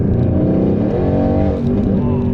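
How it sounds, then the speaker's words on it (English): Tuned Mercedes GLC63 AMG SUV with a twin-turbo V8, loud and close, accelerating hard with steady engine roar, then a quick downshift with a shifting pitch sweep; a voice sounds faintly under the engine. "it shifts down really quick. You know, that's a quick downshift"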